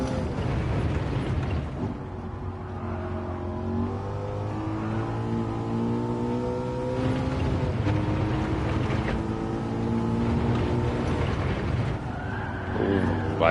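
A Ford Mustang in Gran Turismo 7 at Laguna Seca, engine droning and shifting pitch as it brakes hard and downshifts, with tyre squeal at the end and a voice talking over it.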